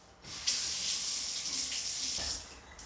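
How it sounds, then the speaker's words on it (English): A kitchen tap runs into the sink to rinse out a container, a steady close hiss of flowing water for about two seconds that starts abruptly and tapers off. "take it over to the sink and rinse it out"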